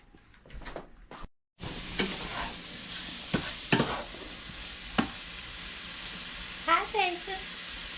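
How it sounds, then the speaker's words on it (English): Sausage sizzles and fries in a pan with a steady crackling hiss, broken by louder clattering stirs and scrapes; a voice chirps briefly near the end. "Frying sausage."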